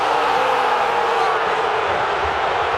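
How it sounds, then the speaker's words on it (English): A stadium crowd at a soccer match reacts to a refereeing decision with a steady, loud roar of many voices that fills the whole stretch without a break. "I hear what the crowd thought of that."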